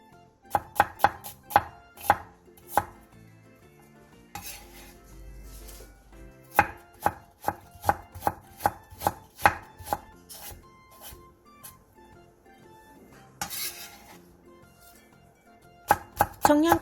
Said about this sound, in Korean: 부추 조금을 2에서 3cm 정도 길이로 자르고 양파 4분의 1개와 당근 조금도 부추와 비슷한 길이로 채 썰어 주세요.